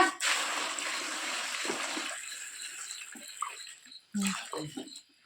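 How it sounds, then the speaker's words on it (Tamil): Water is poured into a pot of turmeric rhizomes: a fairly quiet splashing pour first, then fainter trickles and a few clunks and knocks toward the end. "மஞ்சளை சேர்த்து கொடுத்துட்டு மஞ்சள் முங்குற அளவுக்கு தண்ணி சேர்த்துக்கோங்க"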